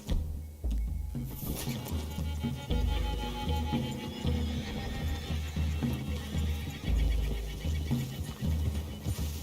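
Horses in the video game Red Dead Redemption 2 whinny and neigh loudly and repeatedly, with clip-clopping hooves and a low musical score running underneath.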